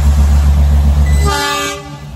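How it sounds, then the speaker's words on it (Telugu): Loud rumble of a nearby train in Matheran, Maharashtra, then a long horn blast with rich tones that fades as the rumble drops away. "హారన్ కొడుతుంది గాయ్స్."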